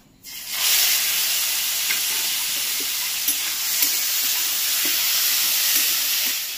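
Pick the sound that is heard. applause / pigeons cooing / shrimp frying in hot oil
shrimp frying in hot oil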